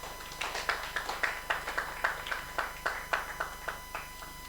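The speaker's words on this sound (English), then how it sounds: "Please give him another round of applause" A slow, sparse clapping from an audience at a conference session, steady individual claps at a relaxed pace, fairly close and unaccompanied by voices.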